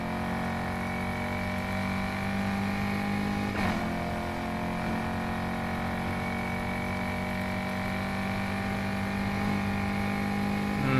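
A steady, throaty drone from a video game car's supercharged 6.2-litre V8 holds at a constant pitch throughout, with a brief shift partway through, like a powerful car cruising.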